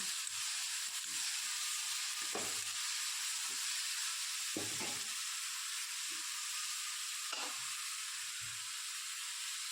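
Onions sizzling in a frying pan with salt added, a steady bright hiss continuing throughout, broken by a few soft stirring knocks and scrapes near the middle.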